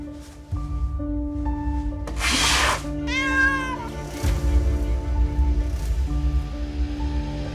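A cat meowing a few times in an indoor palace setting, the cries clear and fairly close over a low background hum, with brief rustling between calls.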